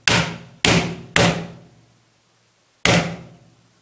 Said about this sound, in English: it will be fun to do a hammer test with this to this screen here